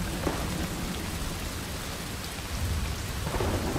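Steady heavy rain pours with low, rolling thunder rumbling underneath in the video game Desperados 3, swelling slightly louder near the end; no voices.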